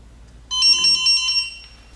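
A battery balancer connected to a low-voltage lithium pack powering a UPS sounds a shrill electronic alarm, a rapid pulsing high beep lasting about a second, close and clear over a faint hum.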